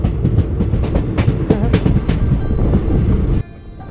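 A train pulls into Bolpur Shantiniketan railway station, its wheels rumbling and clacking loudly and steadily over the rails before the noise drops away near the end.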